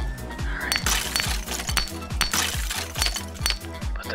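A sheet of rock candy being smashed into pieces in a GTA 5 roleplay scene, making a rapid series of sharp glassy cracks and clinking shards at a steady rhythm, close and continuous.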